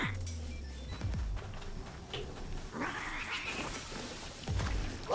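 Flying cat creature in Palworld meowing, with a few drawn-out, nasal cat cries and caterwauls rising over game ambience, fairly close and clear, with no talking.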